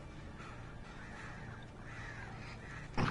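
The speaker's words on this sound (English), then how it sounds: "Birds." Crows caw in the distance within the dark woods of Alan Wake Remastered, a few faint rasping calls over a low ambient game drone, ending with a short louder bump.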